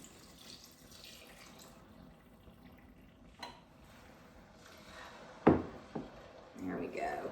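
Wine pours into a pot of coq au vin to deglaze it, a faint liquid splash with a few clanks of cookware, quiet under a low background while someone speaks.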